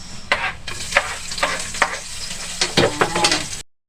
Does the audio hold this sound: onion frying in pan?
yes